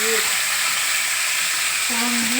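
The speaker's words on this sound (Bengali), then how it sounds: "ঘিয়ের মধ্যেই পলতা পাতাটা ভাজবে" Pointed gourd (palta) leaves frying in ghee for sukto give a steady, even sizzle that carries through without pause, with a faint tonal sound near the start and again near the end.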